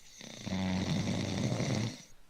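A person snores loudly and steadily through one long, drawn-out rattling breath, close and clear, with no talking.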